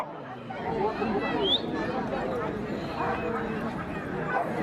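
A St. Bernard at a dog show barks in short yips and whimpers amid a busy crowd, with chatter and speech babble running throughout.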